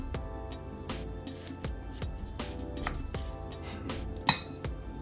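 Tuna is mixed with salt, pepper and sesame oil in a bowl, with repeated light clinks and scrapes of a utensil against the dish at an irregular rhythm, close and fairly quiet.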